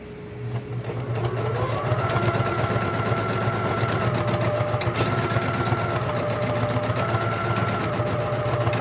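A Bernina Deco650 embroidery machine stitches close by with a steady, rapid mechanical clatter and a humming motor tone that shifts pitch slightly as it runs continuously.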